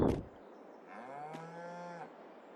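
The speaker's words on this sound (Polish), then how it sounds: "Są to krowy." A single cow moos in Farming Simulator 22, a clear drawn-out low bellow lasting about a second, preceded by a brief thump, with a quiet background.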